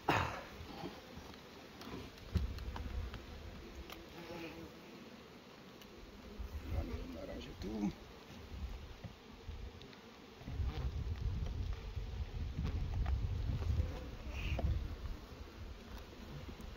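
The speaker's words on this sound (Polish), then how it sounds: "Osy się pchają." Wasps buzz around an apiary beehive, a close, wavering drone that rises and falls as insects fly past, with a few handling noises and brief low rustles.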